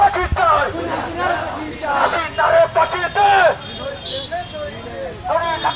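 Street protest by students at Kotwali intersection in Chattogram, Bangladesh: a loud, dense crowd chatters and shouts close by, with raised voices rising and falling in waves over a steady hubbub of traffic.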